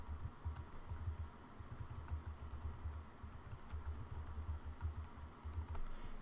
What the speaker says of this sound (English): type in a website again